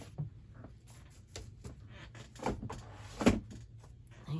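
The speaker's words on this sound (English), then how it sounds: "You hear my stool squeaking." Metal stool at a small art table squeaks and creaks as someone shifts on it, giving a few faint, scattered squeals and clicks in a quiet room.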